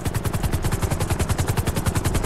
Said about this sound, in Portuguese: Eita, que helicóptero bonito, hein, moço?